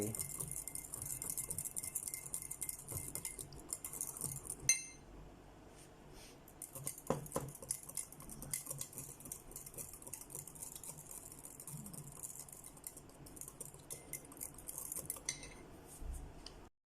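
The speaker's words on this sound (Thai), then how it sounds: "ผมก็คนมาสักระยะหนึ่งให้ เข้ากัน" A utensil stirs HEC gel powder into warm water in a container, giving a steady run of light scraping and clinking that stops briefly midway and then starts again.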